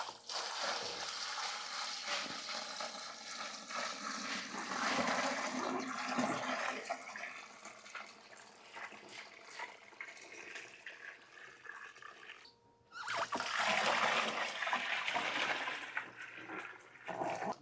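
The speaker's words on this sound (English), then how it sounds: "we're going to put boiling water on top of there" Boiling water poured onto sugar in a bucket while making a brandy mash: a steady, continuous rushing splash lasting many seconds, close by, briefly breaking off and then resuming strongly, with no talk.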